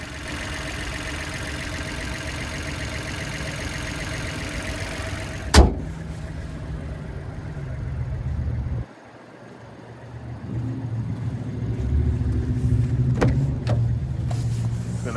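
A 2021 Buick Encore GX Essence with a 1.3-liter turbocharged three-cylinder engine idles steadily, a low mid-pitched hum joined by a sharp click partway through and a door-like thud before the engine note settles again.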